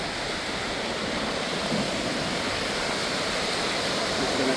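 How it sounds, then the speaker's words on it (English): Lake Michigan waves wash in against the shore at Northerly Island in Chicago, a steady, fairly loud rush of surf filling the scene with no talking over it. "This is a nice wave to come in."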